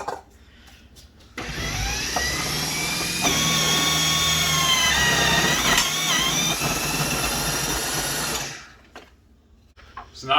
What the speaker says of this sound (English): I gotta cut it up and run it in through the food processor to shred it up.